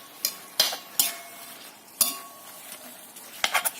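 An egg frying in oil in a pan gives a soft continuous sizzle, broken by several sharp clinks and scrapes of a utensil against the pan.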